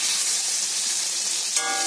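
Eggplant slices, rubbed with salt and turmeric, sizzle steadily in hot oil in a wok, a dense close hiss that swells briefly near the end as more pieces hit the oil.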